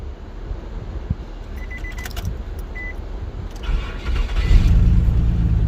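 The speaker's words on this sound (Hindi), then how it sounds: "अभी गाड़ी स्टार्ट हो गया है" A 2001–2005 Nissan car with a newly programmed key starts up, a few small clicks and key jingles giving way to a louder engine catch and running rumble near the end.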